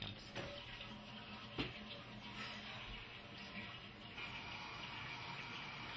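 Water running from a tap for hand washing, a steady broadband rush that holds evenly throughout with a couple of faint clunks near the start.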